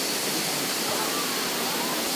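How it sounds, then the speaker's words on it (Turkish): Nebiler waterfall in Dikili, İzmir pours into a natural pool with a dense, steady roar of rushing water that fills the whole scene, loud and close, with no breaks. "Şelaleden dökülen suların oluşturduğu doğal bir havuz var."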